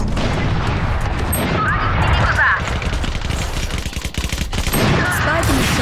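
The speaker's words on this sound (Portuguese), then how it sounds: "É um tiro lá." Rapid Valorant gunfire crackles in close bursts, mixed with loud game effects and voices talking over the action.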